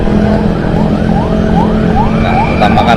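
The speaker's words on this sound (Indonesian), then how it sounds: "Wah, ambulan." An ambulance siren wails, rising and falling repeatedly over loud, dense traffic rumble, sounding fairly close amid the street noise.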